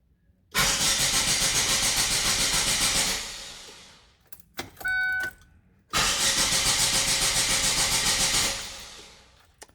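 A 2008 Holden Barina with a fuel filter or pump fault cranks hard for about three seconds without catching. There is a short pause with faint clicks and a brief tone, then a second long, steady cranking attempt that also fails.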